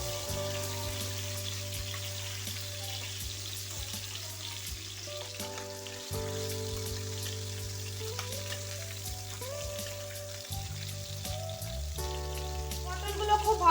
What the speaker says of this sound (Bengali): পটলগুলো খুব ভালোভাবে ভেজে নেব।